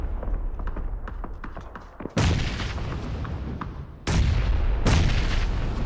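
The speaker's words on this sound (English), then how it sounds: "Somehow able to dodge and weave through all those explosions." Grenade explosions in PUBG: three heavy, close booming blasts, each a sharp broad crack with a decaying rumble, following a stretch of softer scattered pops and clicks.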